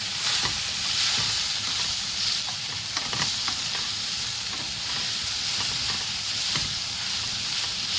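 Soybeans are dry-roasted in a pan and stirred continuously, giving a steady hissing sizzle with scattered light scraping and rattling close by.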